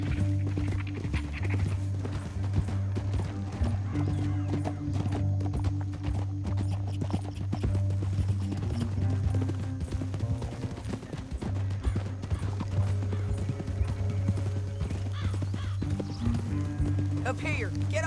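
Horse hooves drum steadily in a Red Dead Redemption 2 ride through a canyon, a continuous rhythmic clip-clop under a low engine-like rumble and scattered dialogue from characters.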